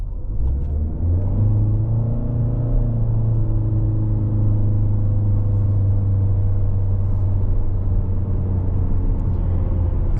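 A 2025 Chevrolet Malibu RS midsize sedan accelerates up to speed, its engine drone rising in pitch during the first seconds and then settling into a steady, loud rumble with road noise throughout.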